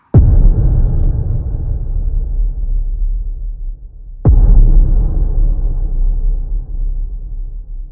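Two deep cinematic trailer booms made with Serum 2, each hitting hard and then fading into a long, low rumbling reverb tail with bass enhancement, a few seconds apart.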